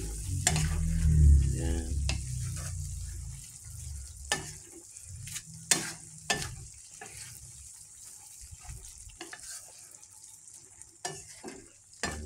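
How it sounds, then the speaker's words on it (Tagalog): A pan of adobong sitaw, string beans in adobo sauce with bay leaves, is stirred: loud scraping strokes at the start, then soft intermittent clinks and a low sizzle, with one brief spoken word. "Atin pong siyang halu-haluin para umilalim yung ating laurel"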